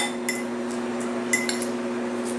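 Utensils stir vegan slaw in a bowl, giving a few faint, scattered clinks and scrapes against the dish over a low steady hum.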